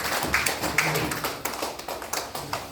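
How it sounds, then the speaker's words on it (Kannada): An audience clapping loudly at a closing session with a teacher, heard as a steady run of sharp, close hand claps with no voices over it. "ಹೊಡಿರಿ ಒಂದು ಜೋರು ಚಪ್ಪಾಳೆ"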